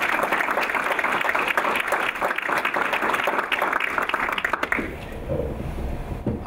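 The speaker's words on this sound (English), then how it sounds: "So I just like to give you another round of applause," Audience applause at a board of education meeting, a dense, loud burst of clapping that carries on for several seconds and then drops away into quieter room noise.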